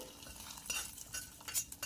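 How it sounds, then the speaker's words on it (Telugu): Faint sizzle of tempering spices frying in hot oil for moong dal pongal, with light scraping and stirring clinks over a couple of seconds. "పోపు అయితే వేసుకుంటున్నానండి."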